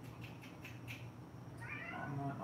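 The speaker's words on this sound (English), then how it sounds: "And there's a cat, if you hear that." A house cat meows close by, a few soft calls and then a longer, clearer meow over a quiet room hum.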